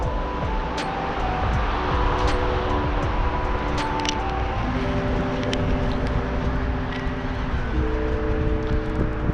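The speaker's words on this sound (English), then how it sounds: "Sound like a rough truck." A rough, rumbling engine drones steadily nearby with a low growl and shifting pitch, surrounded by traffic noise and no talking.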